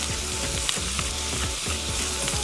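Lamb mince with spices sizzles steadily on a Weber Slate griddle, giving a dense, even crackle with faint scraping throughout and no talking.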